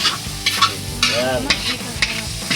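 Spicy goat sisig with brain and heart being stirred and fried in a pan, a loud crackling sizzle punctuated by regular utensil scrapes and knocks, with a brief spoken word over it.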